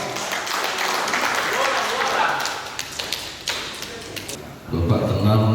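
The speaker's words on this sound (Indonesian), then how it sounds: "tepuk tangan untuk yang 2 orang" An audience at a PTPN III coordination meeting applauds two people, a dense wash of clapping that fades into scattered taps before a voice starts speaking near the end.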